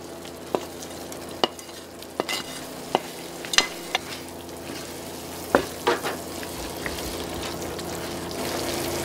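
Arborio rice risotto with mushrooms being stirred in a pan, with repeated sharp utensil scrapes and taps over a steady soft sizzle, close and fairly loud.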